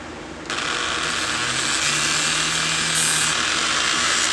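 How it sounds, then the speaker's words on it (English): A cut plastic stem on a hook-and-chain coupling is sanded down with a steady, close, hissing abrasive rasp that starts abruptly and continues without a break. "I'm going to sand that bit down, that way it don't cut my hand."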